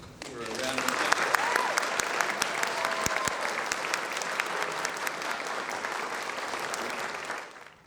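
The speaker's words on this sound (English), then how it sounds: "Tina, why don't you come out for a round of applause." A sustained round of applause from an audience as Tina Fernandez is welcomed out at an Oglethorpe Day ceremony, dense steady clapping for several seconds, with some voices and cheers mixed in before it tapers off.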